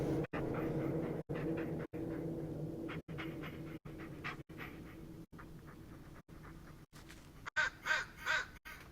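A dog in the Blair Witch video game pants steadily in rhythmic breaths, broken by brief cuts, with a few brighter whimpering sounds near the end.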